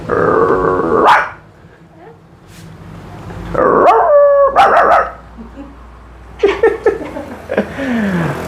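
A voice imitates a dog, producing three separate bursts of barking and growling with quiet pauses between them, loud and close.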